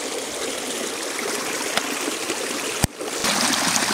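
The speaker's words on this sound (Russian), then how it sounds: "Такой мини-водопадик." A small forest stream tumbling over a mini waterfall gives a steady, close rushing wash of water, with one sharp knock near the end.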